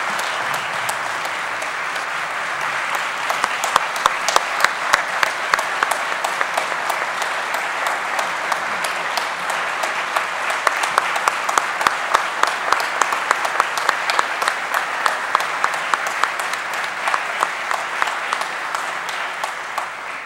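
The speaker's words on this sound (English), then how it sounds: "I've been trained never to step on your applause" Sustained applause from a large annual conference audience for a bishop at a Sunday evening plenary, a dense steady wash of many hands clapping at moderate distance, continuing throughout without speech.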